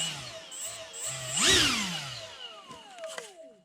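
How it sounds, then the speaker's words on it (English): An electric ducted fan jet mounted on a WPL C14 RC truck spools up to a rising whine, peaks and winds back down, with a few short throttle blips before. "I'm going to fire this up now and show you how much power it's got"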